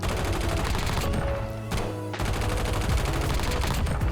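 Ram 7 assault rifle firing in Call of Duty Warzone, dense continuous automatic bursts with a short pause midway, loud and close, no voices.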